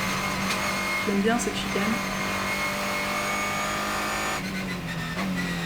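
A Ligier JS2R race car on track, its engine droning steadily from onboard with shifting pitch through a chicane, while a driver talks over it.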